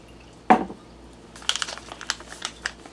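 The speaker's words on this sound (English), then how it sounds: "I got a cup and a half of cold water here. And we'll pour that in." Cold water is poured into a Mylar bag of freeze-dried roast dinner: a sharp crinkle of the foil bag, then a run of splashing, crackling pours and rustles close by.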